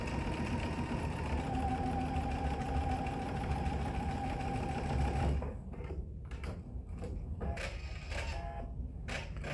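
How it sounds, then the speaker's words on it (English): A sewing machine stitches across the bulky centre of a hexagon quilted table topper, running steadily at first, then stopping and restarting in short bursts. "Line it up again and sew across."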